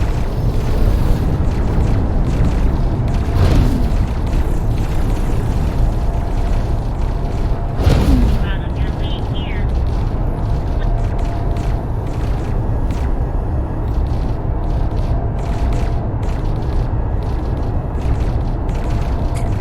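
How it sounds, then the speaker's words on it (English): A starship's main guns and explosions in the X4: Foundations space game: a dense, loud, continuous rumbling roar broken by a couple of sharper booming blasts, with no voices. "I kind of want to see if I can shoot down that Dragon Raider with my main guns."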